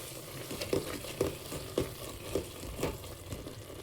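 Chukkakura (sorrel leaves) being stirred in a pan as they cook down, with a spatula scraping in a steady rhythm of about six strokes over a soft, continuous sizzle.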